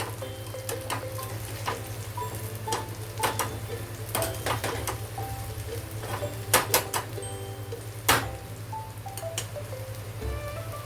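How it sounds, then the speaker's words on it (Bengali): Fritters (bora) frying in hot oil, a steady low sizzle and crackle with scattered sharp spatters and clinks of turning, fairly quiet and continuous with no talk. "তো এইভাবে লাল লাল করে উল্টো পাল্টা করে ভেজে নেবো বড়াগুলো"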